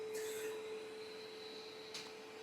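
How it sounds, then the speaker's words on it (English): A shop vac running as workshop dust collection, a steady faint motor hum with brief scraping noises near the start and around two seconds. "I got to turn on the dust collection"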